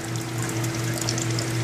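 Water streams steadily from the product water outlet of an RO unit, a loud continuous rushing pour over a low steady hum from the system.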